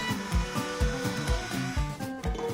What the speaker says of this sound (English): there's just time for a spot more sanding